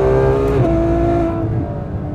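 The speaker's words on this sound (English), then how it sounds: "Remember, it's front engine, I'm wide open in third." A front-engined Ferrari F12 howls at wide-open throttle in third gear out of a hairpin. The engine note is loud, close and continuous, with a strong pitch shift midway as it climbs and then eases slightly near the end.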